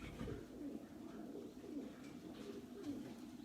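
A pigeon in a racing-pigeon stock loft coos close by, with repeated low, throaty calls in a steady rhythm over a soft, continuous background.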